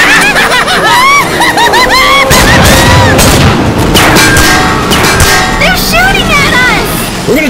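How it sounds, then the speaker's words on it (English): Gunshots from a band of seven or eight pursuers firing at a fleeing group, loud bursts and booms mixed into a busy action soundtrack with shouting voices and music. "They're shooting at us."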